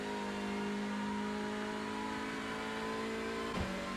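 A Hyundai Elantra TCR touring car engine in the iRacing sim at Barber Motorsports Park holds a steady, loud drone at high revs, then changes pitch briefly near the end, with no talk over it.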